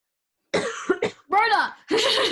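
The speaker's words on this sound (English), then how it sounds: "also don't have COVID but need to cough." Several coughs come out in short bursts with a brief voiced break between them, close and fairly loud, as if someone deliberately clears their throat and coughs.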